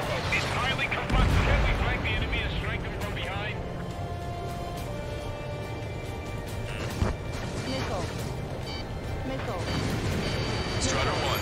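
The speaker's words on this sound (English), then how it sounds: "Jesus, they're firing at each other." Gunfire and heavy explosions during a combat mission in the flight game Ace Combat 7, with a booming blast near the start and another midway over a constant rumbling battle din, and voices talking throughout.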